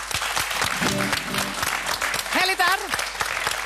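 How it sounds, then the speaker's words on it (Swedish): A studio audience applauds the house band on a Swedish televised bingo-lottery show, steady clapping throughout with a presenter talking over it and brief musical tones rising partway through. "Tack husbandet, vi ger dem en applåd."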